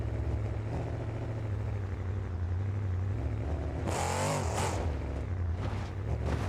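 A monster truck called the Albino Tail Gator roars in a driving video game, its engine droning loudly and steadily with a surge of revving midway.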